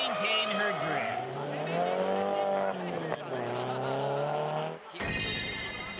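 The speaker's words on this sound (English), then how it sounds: "She goes in with speed! Oh, but can't maintain her drift." A drift car in a D1SL street-legal drift competition at Maze enters a corner at speed, engine howling and tires squealing in a sustained loud wail, with a commentator talking over it.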